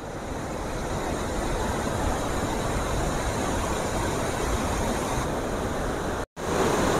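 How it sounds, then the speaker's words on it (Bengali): Water gushes continuously at Bhimkund waterfall, a dense, even roar that stays close and loud throughout, broken by one sudden brief dropout near the end. "এইরকম ভাবে বেরোচ্ছে জলটা।"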